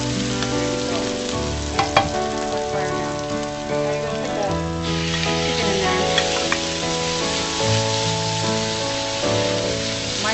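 Garlic and other ingredients for pancit bihon frying in an over-hot pan, a dense continuous sizzle and crackle close up, swelling louder partway through as more food drops in, with scattered clinks and no talking.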